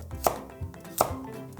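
A knife chops vegetables such as onion and carrot for chop steak, with two sharp, separate strikes on a cutting board less than a second apart.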